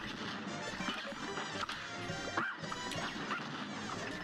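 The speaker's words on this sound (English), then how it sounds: "Look at their barking at us, little bow wow action" Small cartoon dogs in Cuphead yap and bark in quick bursts over busy, crashing game music and effects, the barks loud and close amid the clatter.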